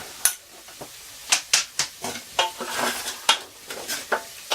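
Peppers tipped into a frying pan of Scottish rapeseed oil and stirred for spaghetti bolognese, giving repeated scraping clacks of utensil on pan over a soft steady sizzle.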